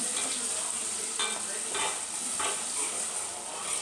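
A chicken curry masala base with salt and turmeric sizzling and frying in a pan, a steady hiss broken by a few scraping stirs, close and moderately quiet.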